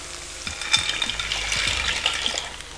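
Vegetables sizzle and fry together in a pan while pasta boils nearby, with a steady close crackle, a few stirring scrapes and light clinks of cookware; nobody speaks.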